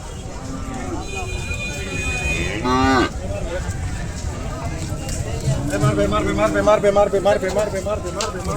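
A cow lets out a loud, drawn-out moo at the Satmail cattle market in Jessore, Bangladesh, amid a busy crowd of talking people, with pigeons cooing in the background.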